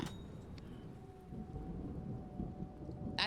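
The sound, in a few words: rain and thunder in video game Bottle It: Beverage Simulator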